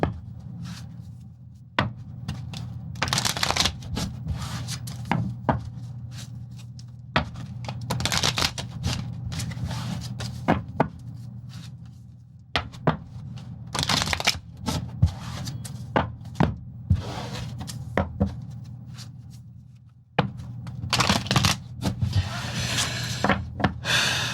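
Cards shuffled by hand in repeated bursts of quick riffling and snapping, with pauses between, close up over a faint background hum.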